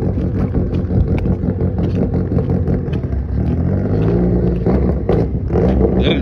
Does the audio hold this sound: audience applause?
no